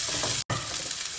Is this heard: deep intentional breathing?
no